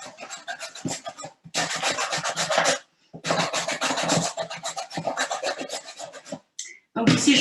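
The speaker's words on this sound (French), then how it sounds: "Donc je vais râper la moitié de la carotte." Carrot and cabbage rubbed against a hand grater for lactofermentation, a loud rhythmic rasping in long continuous bursts separated by short pauses, close up with no talking.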